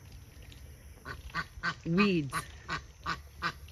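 Crested ducks and geese calling by a pond shoreline, with several short quacks spaced through the clip and one louder, drawn-out honking call in the middle, heard close by beside a brief spoken word.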